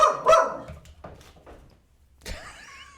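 A dog barks nearby in a few sharp bursts at the start, then quieter yelps follow and one more bark comes near the end, in a room with no talking.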